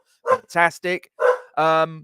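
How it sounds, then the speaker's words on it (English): A pet dog barks at someone at the home's door, a few sharp close barks and yips in quick succession, with a short spoken word mixed in. "do excuse my dog as she's barking because somebody's at the door"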